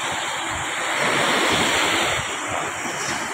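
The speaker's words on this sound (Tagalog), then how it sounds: "Ito yung alon." Sea waves rolling onto a boat-launching shore, a continuous close roar of surf with swelling breakers and wind buffeting the microphone, no voices.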